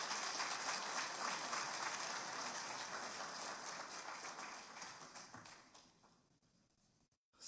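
Audience applause at a political program presentation in Craiova, a steady, distant wash of many hands clapping that holds level and then fades away toward the end.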